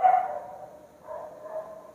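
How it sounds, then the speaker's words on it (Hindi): Dogs barking at a moderate distance, a couple of short bursts rising and fading over two seconds with no talk over them. "भौंकना शुरू हो गया"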